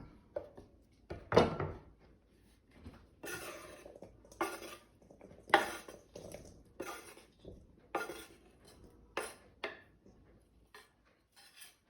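Pineapple salsa being mixed in a bowl with chopped pineapple, jalapeño and cilantro: irregular clinks, taps and scrapes of a utensil against the bowl, fairly close and quiet between the louder knocks.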